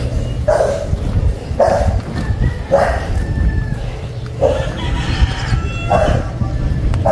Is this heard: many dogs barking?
yes